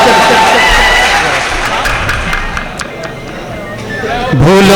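Loud, sustained applause from the audience at a mushaira poetry gathering in Malegaon, a dense wash of clapping that fills the space and dips slightly before swelling again.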